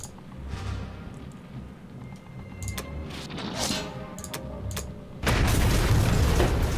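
Bombing raid explosions in Axis & Allies Online, muffled booms and mechanical rumbling at moderate loudness, ending in a sustained heavy roaring blast.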